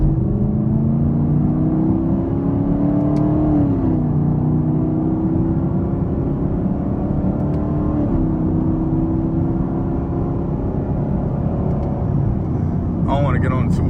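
A custom Camaro 2SS on 24-inch wheels cruises at night, its engine giving a steady, close, low rumble with mild pitch shifts from light throttle, running under the driver's talk.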